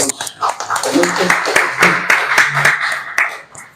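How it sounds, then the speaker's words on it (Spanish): Scattered audience clapping after a history lecture session, uneven and close, with a voice speaking over the claps. "Un aplauso para nuestros dos ponentes."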